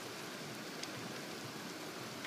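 Small pea-sized hail falls steadily on a car during a winter thunderstorm, a dense, even hiss of tiny impacts with faint separate ticks, constant and close.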